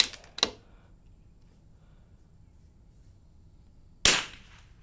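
Two sharp gunshots from a Curtis custom rimfire conversion ring out close by, about four seconds apart, each with a short decaying tail over quiet background.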